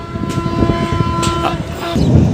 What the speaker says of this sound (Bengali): এই দেখেন কত দ্রুত গতিতে ট্রেন আসতেছে